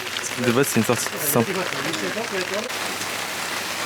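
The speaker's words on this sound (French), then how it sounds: "C'est la première fois que je vois vraiment de la pluie en Chine." Steady rain hissing down on a city street in China, a constant wash of close patter throughout with a person speaking over it early on.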